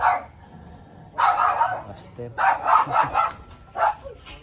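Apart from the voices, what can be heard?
dog barking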